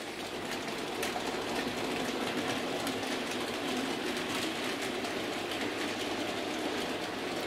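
A model Bachmann Ivatt 4MT locomotive pulling a heavy freight train rumbles steadily along its track with a light, continuous clatter and faint rhythmic clicking, fairly quiet and unbroken throughout.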